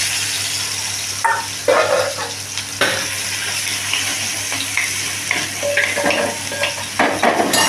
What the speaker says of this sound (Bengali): কড়াতে তেল গরম হয়ে গেছে এখন আমি এই যে আধা বাটা যেটা রেখেছিলাম সেটাকে ঢেলে দেব